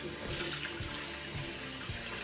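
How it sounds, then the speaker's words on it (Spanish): A running tap pours water steadily into a sink while the face is wetted, a close, continuous hiss and splash with faint hand splashes. "Primero me humedezco la cara con agua fría."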